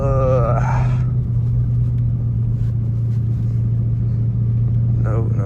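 A Dodge Hellcat car accelerating toward top speed, a loud, steady engine drone and road rumble heard from inside the cabin, with a rising whine at the start and a person talking over it.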